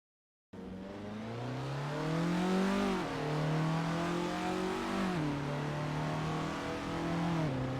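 Formula Ford race car engine in the Assetto Corsa racing game, revving loud and close with rising and falling pitch through gear changes, continuous and alone for about seven seconds after a silent start.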